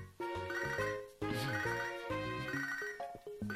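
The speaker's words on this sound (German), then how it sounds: "Nein, ich geh nicht ans Telefon." An in-game phone rings in the Pokémon video game, a bright chiptune ringtone melody of stepped electronic tones that repeats in short phrases, loud and clear with no talk.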